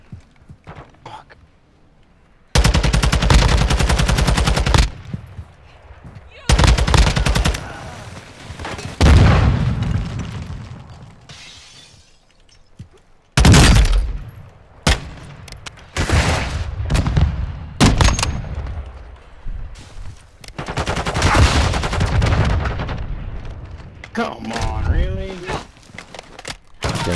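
Gunfire in Warzone 2.0 DMZ: loud close bursts of automatic fire and booming shots come in clusters, interleaved with quieter stretches and players talking over the action.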